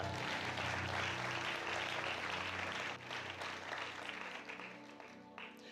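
A church congregation at an Easter service claps loudly together for Jesus, a dense burst of applause that thins after a few seconds into scattered claps, with voices mixed in.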